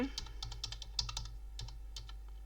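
Quiet, close tapping on a computer keyboard, a quick run of about a dozen key presses at an uneven rhythm over a low steady hum.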